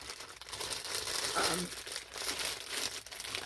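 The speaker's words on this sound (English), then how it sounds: "So again, don't mind the crinkle." A plastic bag holding yarn crinkles and rustles near at hand in continuous crackly waves, with a voice speaking softly over it.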